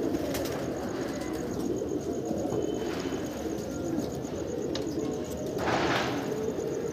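A flock of domestic flying pigeons coos in a dense, even drone at a rooftop loft, with brief brighter bursts over the soft murmuring.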